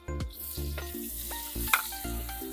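Onions fry in a pan after garlic for pancit palabok, a close, steady sizzle broken by short rhythmic scraping and clinking strokes from stirring.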